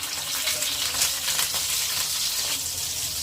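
Shrimp dropped into hot oil in a wok give a steady, bright hissing sizzle, fairly quiet and continuous with no talking.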